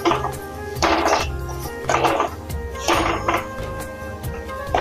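Masala for urad dal tadka is stirred in a pan, with loud, rhythmic scraping and clanking of a spoon against the metal in four bursts about a second apart over a low background hum.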